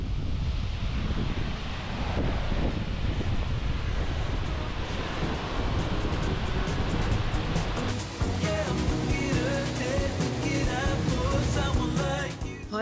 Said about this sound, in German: deswegen ist der Wasserfall nicht mehr ganz so groß